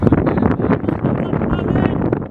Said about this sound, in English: Yep, still windy